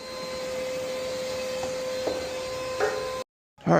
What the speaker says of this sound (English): get rid of that vacuum